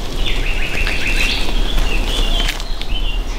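Songbirds singing in bushes outdoors, including blackcaps: continuous bright warbling and trilling phrases from several birds at moderate distance over steady background hiss.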